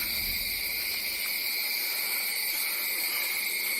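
Crickets chirp at night in dense, continuous high trills that hold steady throughout, close and fairly loud with no other sounds standing out.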